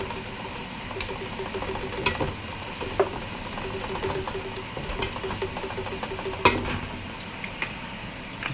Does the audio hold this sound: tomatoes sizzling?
yes